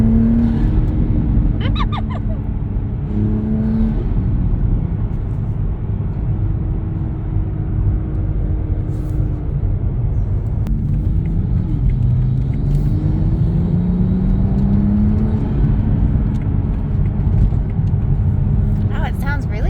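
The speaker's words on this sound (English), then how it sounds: "this one is supposed to be kind of the loudest intake of them all." A 2022 Toyota GR Supra MK5 fitted with a new loud aftermarket intake drones and rumbles from inside the car, with rising and falling pitch as it accelerates through gears; people talk over it.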